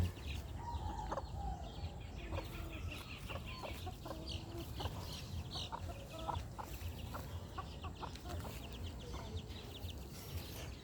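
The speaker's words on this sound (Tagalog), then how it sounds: "Itong inahin lang at saka yung mga sisiw niya." Mother hen with her chicks outdoors: soft repeated clucks mixed with high chick peeps, fairly close, scattered through a quiet background.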